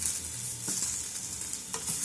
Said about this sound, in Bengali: আমি এবারে সকলকে মিশিয়ে দিচ্ছি, টমেটোটা দিয়ে দিচ্ছি।